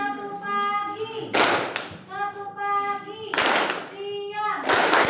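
Children in a classroom chant and clap together in a rhythmic clapping game, with three bursts of group clapping between sung call-and-response phrases, fairly close.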